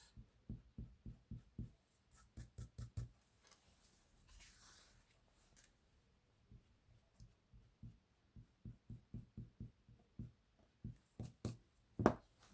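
Eraser rubbing back and forth on paper to remove distress ink, quick rhythmic scrubbing strokes in short bursts, close and fairly quiet, with a pause in the middle before the rubbing resumes.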